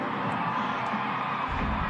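A big basketball crowd cheers and whoops steadily inside Qudos Bank Arena at a WNBL Sydney Flames versus Perth Lynx pink round game, a dense continuous roar of voices filling the arena without letting up.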